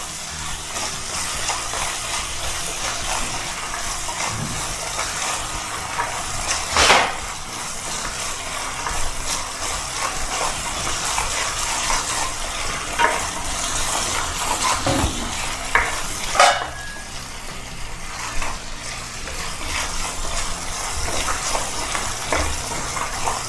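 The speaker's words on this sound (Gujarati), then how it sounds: "ડુંગળીને થોડી ગોલ્ડન બ્રાઉન થવા દઈશું" Onions sizzle in a pan with salt, stirred now and then with a few sharp scraping clicks, a steady close frying hiss throughout.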